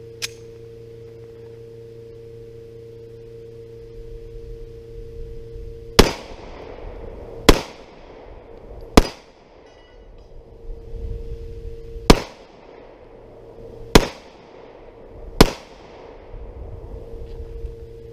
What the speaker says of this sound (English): Very manageable little 9mm, and a great shooting gun.